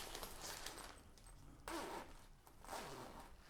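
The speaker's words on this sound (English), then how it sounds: "You see here the zippers." A zipper on a fabric window seal kit for an air conditioner, pulled in a few short, close, rasping strokes.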